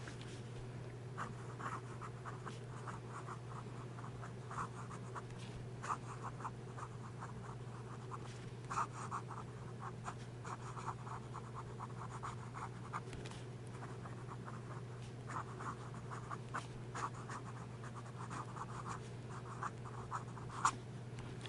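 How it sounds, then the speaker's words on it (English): Medium-nib fountain pen writing quickly on paper, a soft steady scratching with bursts of nib strokes continuing throughout, close and quiet, with a low hum beneath and no voices. "Turn this back over and we'll do some quick writing with the pen."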